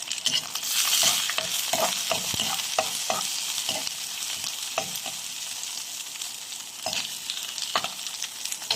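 Garlic and onion sizzle steadily in a hot pan while a utensil stirs and scrapes with repeated clicks, no voices present.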